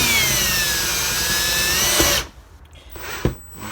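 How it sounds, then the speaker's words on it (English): A step drill whines loudly and steadily as it bores a hole through a plastic housing for a photocell, then cuts out abruptly, followed by a faint clunk and a quiet thin tone. "I'm going to get my step drill, okay, and I'm going to drill out a hole right here"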